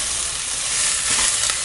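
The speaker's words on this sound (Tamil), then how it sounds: "நம்ம டைரெக்டாக அப்படியே வெங்காயத்தை போட்டுக்கலாம்" Onions sizzle and crackle in hot oil, a loud, close, continuous hiss with a few stirring scrapes.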